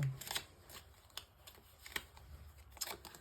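Tarot cards shuffled and laid down one by one, producing brief, faint papery flicks and snaps in a loose rhythm, heard close and alone against a quiet background.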